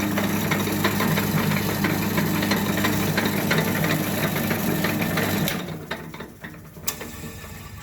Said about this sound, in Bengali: মেশিনটা হলো 2 হর্সের মেশিন